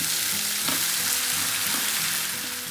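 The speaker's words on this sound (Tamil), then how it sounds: "நல்லா மிக்ஸ் பண்ணிவிட்டு நல்லா ரோஸ்ட் பண்ணி எடுக்க வேண்டியது தான்" Goat brain being gently turned and roasted in a hot pan, with a steady close sizzle and a few soft spatula scrapes and stirs breaking through the frying hiss, no voices.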